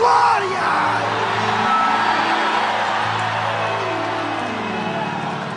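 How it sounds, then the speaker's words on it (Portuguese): A church congregation roars a loud shout of glory together, a sustained mass yell of many voices that slowly fades. "Mais um grito de glória!"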